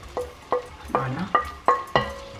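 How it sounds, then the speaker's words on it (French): Onions frying in hot oil for Ghanaian beans and plantain, heard as a quiet sizzle broken by about six sharp utensil taps and scrapes against the pan at a steady pace. "Donc là, mon huile est un peu chaude. Je vais rajouter les oignons dedans."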